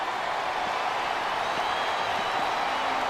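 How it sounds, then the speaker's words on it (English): A large wrestling arena crowd in the video game WWE 2K25 murmurs and roars continuously at a steady level, a broad dense wash of many voices with no single voice standing out. "Sounds like this crowd's got something on their minds, King."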